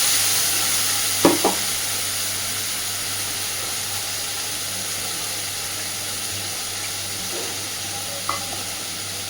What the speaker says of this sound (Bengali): খুব ভালোভাবে কষাতে থাকবে